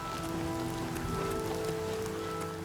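Steady rainfall patters in the video game Oblivion Remastered, a continuous even hiss of drops on surfaces with a low ambient hum beneath, no talking.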